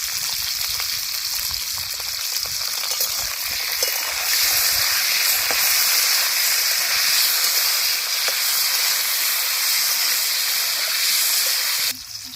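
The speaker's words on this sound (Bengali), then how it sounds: "কড়ার মধ্যে উচ্ছে দিয়ে দেব লবণ" Steady, loud sizzling of sliced bitter gourd frying in hot oil in a wok, a continuous hiss and crackle throughout with no voices.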